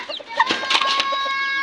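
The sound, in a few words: chicks clucking and chirping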